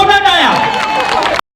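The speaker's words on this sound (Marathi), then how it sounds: "निवडणूक घेण्यात अभिनंदन. जोरदार टाळ्या." An audience claps and cheers loudly at a women's ramp-walk contest on the Home Minister show, a dense, continuous burst of applause with voices mixed in that stops abruptly.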